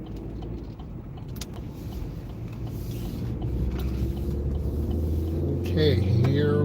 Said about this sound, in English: This motor is still cold. I can tell from how it sounds.